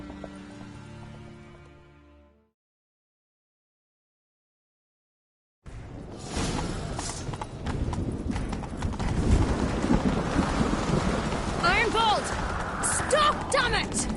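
Rapid hoofbeats of horses galloping in rain in the video game Witcher 3 clatter loudly after a moment of silence, with a horse whinnying near the end.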